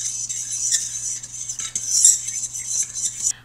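A metal fork stirring a yeast and sugar mixture in a bowl, with continuous light clinking and scraping against the dish, close and steady.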